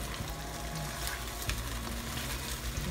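Chicken breast for hamonado simmers in a pan with a continuous, even bubbling sizzle, close and moderately loud, with a few faint clinks.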